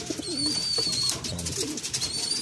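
Pigeons in a racing loft coo softly and repeatedly at close range, with a steady high electronic whine in the background.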